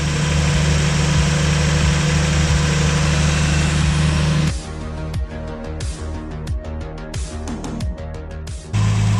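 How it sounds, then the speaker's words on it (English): A Datsun 280ZX engine idles with a steady low rumble for several seconds, then the sound shifts into a rougher, pulsing idle with irregular ticks and knocks close by. "So here we got the car idling."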